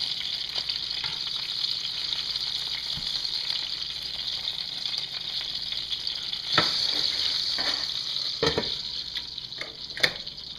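Squirrel meat frying in a pan, giving a steady, bright hiss of hot fat that holds through the whole stretch, with a few soft knocks and pops near the end, close and moderately loud with no voices.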